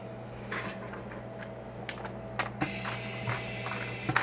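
A screen laminating machine presses new glass onto a cracked iPhone 11 Pro Max display at 0.2 pressure, giving a steady low mechanical hum with light clicks and a sharper hiss near the end, with no voices.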